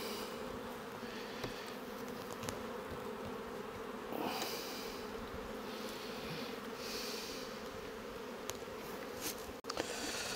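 Honeybees swarm around an open beehive during an inspection, making a dense, steady, close buzzing drone with small swells and no voices.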